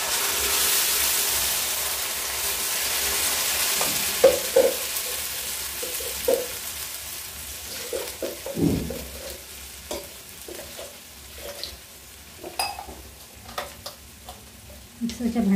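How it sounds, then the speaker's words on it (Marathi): Ground wet masala paste hits a hot pan of browned onions and curry leaves for fish curry, sizzling loudly at first, then settling into softer frying with scattered stirring scrapes and clinks. "आणि मी आता वाटण घालून घेते याच्यामध्ये."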